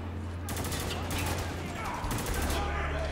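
Gunfire in the video game Spec Ops: The Line comes in rapid bursts of shots, loud and dense, with a brief pause midway before more firing.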